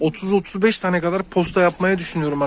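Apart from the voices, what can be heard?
No distinct noise like a dog, phone or traffic.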